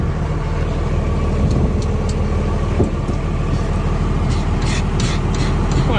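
Steady engine rumble and road noise from a car out for a drive after sitting unused for months, constant and fairly loud with occasional faint ticks and rattles, no talking.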